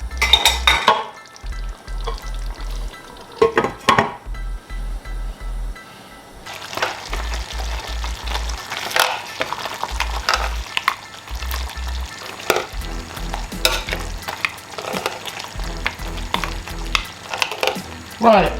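Oxtail stew simmering and sizzling in a pot, with steady bubbling and frying crackle throughout, occasional stirring and light clinks of a utensil against the pot, close and fairly loud.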